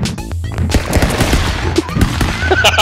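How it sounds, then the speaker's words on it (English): Rapid gunfire from the cartoon stick-figure brawler Stick Fight, loud bursts of shots cracking over a busy, thumping game soundtrack for a few seconds, with a voice briefly under the noise. "That was me, I shot you."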